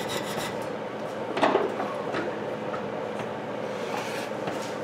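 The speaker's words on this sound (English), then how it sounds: "File, there it is. Let's do the bit of a burr off here." Hand file rasping a burr off a metal screw piece while fitting a bike trailer hitch, a few short scraping strokes at close range with one louder stroke near the start, no talking.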